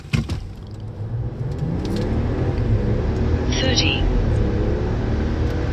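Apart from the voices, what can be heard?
RAM 1500 Hurricane pickup truck accelerating 0 to 60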